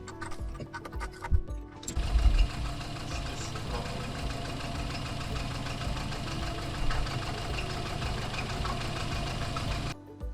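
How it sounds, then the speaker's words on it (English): A 1979 Opel Kadett C 1.2 petrol engine with broken crankshaft bearings runs steadily at idle, a close, constant mechanical clatter with a rapid ticking knock that carries through without interruption. "So the engine ran for 5 minutes now"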